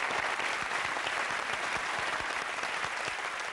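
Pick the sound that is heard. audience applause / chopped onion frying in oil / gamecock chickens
audience applause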